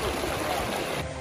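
Water of a creek in Ashdown Gorge near Cedar City flowing steadily, a close, continuous rushing and burbling without a break.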